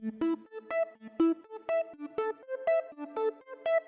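A bright, plucky synth arpeggio with unison and filtering bounces quickly through repeating notes with short decays and a light echo; no voices.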